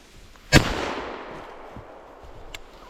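A shotgun fires while hunting wood pigeons in the Landes: one loud, close, sharp report rings out and decays, followed later by a much fainter, brief second crack.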